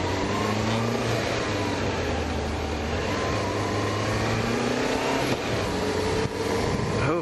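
A car cruising along a road on the way to Best Buy, a steady engine and tire drone with faint tonal hum, fairly close and continuous, a brief bump near the end.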